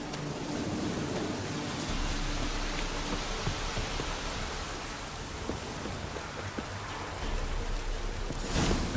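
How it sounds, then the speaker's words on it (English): Rain falls in The Witcher 3, a steady broadband downpour hiss that holds evenly, with scattered drips and a brief louder swell near the end. "Looks like rain."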